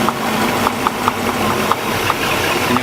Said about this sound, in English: you'll hear a difference in the engine RPM. It drops.